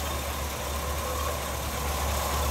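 A 1975 Cadillac Eldorado convertible's 500 cubic inch V8 idles steadily with the hood open, a low, even rumble with a continuous hum holding without change throughout.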